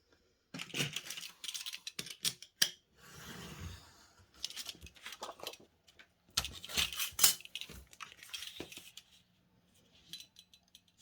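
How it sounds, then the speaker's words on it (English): Paper being cut to size with scissors or a blade for a textile-art coin envelope, with scattered close snips, rustles and crinkles coming in irregular bursts. "cut my paper to size."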